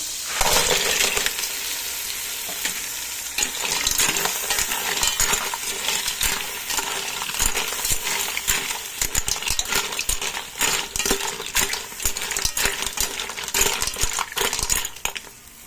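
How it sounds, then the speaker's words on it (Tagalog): Mussels for ginataang tahong stirred in a pan, shells clattering and scraping against the metal in a dense, continuous rattle with sizzling underneath, close and fairly loud, with no talking. "Mix natin guys yung ating tahong"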